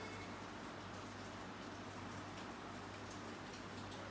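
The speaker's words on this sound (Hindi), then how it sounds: "बहुत तेज़ बारिश हो रही है और 2 दिन से बारिश हो रही है, तो वो नेचुरल साउंड है।" Heavy rain that has kept falling for two days, heard from indoors at home as a steady, even hiss of dense drops with a faint low hum underneath, fairly quiet and unbroken throughout.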